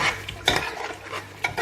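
Lamb and rice for lamb akni cooking in a covered pot, heard as a soft bubbling simmer with a few brief scraping and clinking touches of a utensil against the pot.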